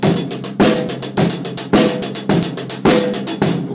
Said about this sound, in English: Okay, so the SQA are calling this a 16s beat groove